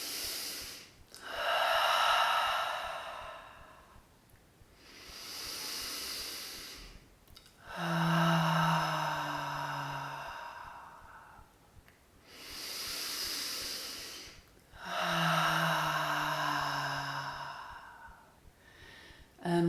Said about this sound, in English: Let's take 3 audible breaths.